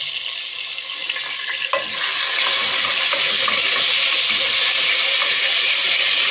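Garlic frying in oil as the base of a tomato koshari sauce, a loud bright continuous hiss and sizzle that swells after a couple of seconds and holds steady, close up with no talking.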